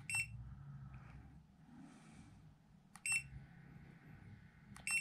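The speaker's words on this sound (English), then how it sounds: "Sorry for all the beeping." Three sharp high-pitched electronic beeps from a Creality CR-Scan Ferret 3D scanner at roughly even intervals, loud against a low background hum, with a faint brief chirp near the start.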